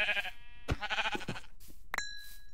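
A couple of wavering sheep bleats in a video game, close and clear, with a short knock between them and another brief bleat near the end.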